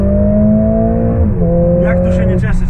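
Mercedes CLA45 AMG with 390 hp launching hard from a race start with traction control off, its engine note climbing through the gears with a brief shift dip midway, loud and close, with a voice talking over it.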